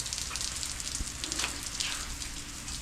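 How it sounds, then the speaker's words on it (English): Steady rain falls outdoors beside a 1965 VW Bug under repair, a dense even hiss with scattered drops and no talk. "And as usual around here, it's raining again."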